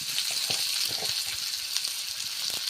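A potato curry bubbling in a pan: a steady close sizzling hiss with soft scattered bubbling pops underneath, continuous throughout.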